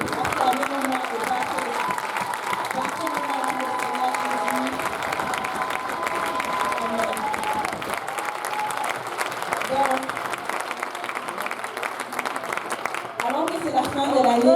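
Sustained church applause and cheering from a large congregation, dense and continuous throughout, with a voice over a loudspeaker rising near the end.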